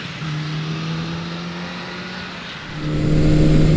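A 1981 Suzuki GS550T motorcycle engine drones steadily while riding, then climbs to a louder, higher rev near the end, with a close, continuous tone and no talk.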